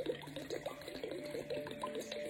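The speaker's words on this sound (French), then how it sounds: "Prenez toute la bouteille, une grande bouteille, et vous versez." Liquid glugs and splashes steadily as a large bottle is emptied into a container, a rhythmic bubbling pour heard close and fairly quiet.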